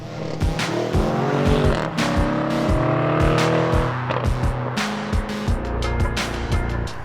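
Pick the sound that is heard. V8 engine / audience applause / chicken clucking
V8 engine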